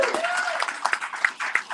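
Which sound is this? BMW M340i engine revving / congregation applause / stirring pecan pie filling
congregation applause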